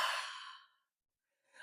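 One long, airy exhale in a yoga flow, full and close, fading out into silence before a faint new breath starts.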